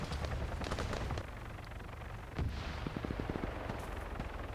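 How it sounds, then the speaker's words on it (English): Heavy-caliber gunfire in the video game Arma 3, aimed at a helicopter: dense rapid shots and booming blasts over a constant loud rumble, with a burst of quicker evenly spaced reports near the end. "Take a few shots at the heli, random shots, just in case I can do some damage"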